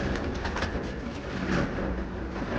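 Breeding-season pigeons coo in a loft, a dense, continuous murmur of soft overlapping calls close by, with a steady low rumble beneath.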